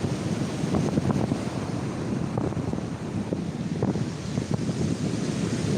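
Wind gusting across the microphone at the coast while fishing, a steady rough rumble with faint surf beneath, no voices.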